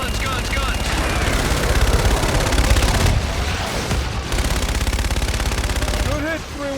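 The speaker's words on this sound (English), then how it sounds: "Roger, inbound for gun run." An aircraft gun run strafing targets in Call of Duty: Infinite Warfare, a loud, dense roar of continuous rapid cannon fire with a short break midway, layered with battle noise and radio voices talking.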